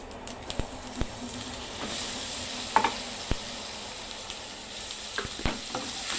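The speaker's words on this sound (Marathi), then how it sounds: "जे हे वाटण बनवून घेतलेलं आहे ना, आता हे घालूया" Ground masala paste tipped into a hot tempering of cumin and mustard seeds for vada pav filling, giving a steady close sizzle broken by scattered sharp pops and clicks from stirring.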